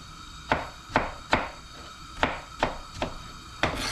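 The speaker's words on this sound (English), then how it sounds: "In the meantime, we'll be slicing our tomatoes" Knife slicing tomatoes on a cutting board for a breakfast burrito: seven or eight crisp chops, a regular thud of blade against board spaced about every half second, close and clear with no talk.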